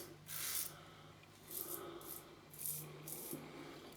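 A Rockwell 6S stainless steel safety razor scrapes across skin in repeated short, close strokes, each a soft raspy swish with brief pauses between them.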